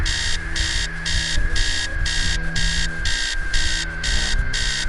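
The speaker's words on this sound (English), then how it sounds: "The sound of an alarm clock blaring." An alarm clock in the video game Stories Untold blares in rapid repeating electronic beeps, loud and insistent over a low background hum, with no talking.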